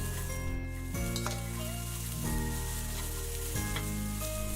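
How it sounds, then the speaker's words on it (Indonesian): Diced green beans being stir-fried with spices in a pan, a loud steady sizzle with scraping stirring strokes repeating about once a second, close and continuous. "Kemudian kita oseng-oseng, kita orak-arik ya, sampai bumbu dan juga bahan tercampur merata."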